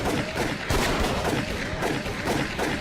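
Gunshots in Call of Cthulhu: Dark Corners of the Earth crack out in a steady stream of loud, close reports, one after another with no pause, over a dense, noisy backdrop.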